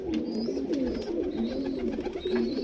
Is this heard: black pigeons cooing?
yes